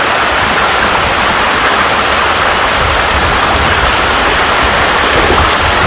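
Raikhong Waterfall in Bangladesh, a very wide waterfall, roars with a loud, steady, dense rush of water that stays unbroken throughout.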